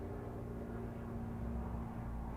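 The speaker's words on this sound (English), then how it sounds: "I'll just wait for the helicopter to go past." Steady low rumble of a helicopter passing over an outdoor spot, continuous and fairly distant, with no talking over it.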